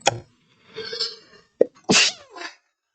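A single sharp human sneeze at the start, followed by breathy sniffs and a short vocal exhale or murmur, close and clear against silence.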